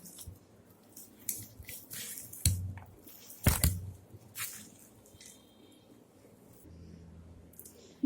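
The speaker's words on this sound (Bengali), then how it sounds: "এখন আমি মেখে নেব।" Raw banana kofta mixture with gram flour is kneaded by hand, giving soft wet squishes and a few sharper slaps, close and fairly quiet with no talk.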